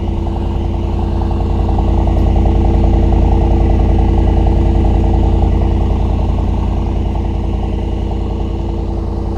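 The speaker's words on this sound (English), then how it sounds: "Just listen to the idle" A 2022 Mercedes SL 63 AMG engine idles at a steady, deep, even rumble that holds for about nine seconds, close and loud, with no voices over it.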